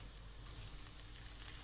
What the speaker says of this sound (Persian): پیاز رو سرخ میکنم